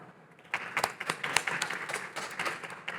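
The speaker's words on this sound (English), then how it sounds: "A big clap to you, Anna." Audience applause at a London climate technology show panel on the circular economy, a steady wash of clapping that swells after a quiet start and holds for the rest of the moment.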